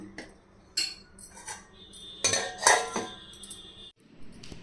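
A metal kadai is set down on the stove for frying, giving several clanks and clinks of metal on metal, close by and irregular, with short quiet gaps between.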